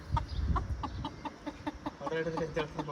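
Chickens cluck in a quick, steady series of short, close, fairly loud calls, with a denser run of clucking toward the end.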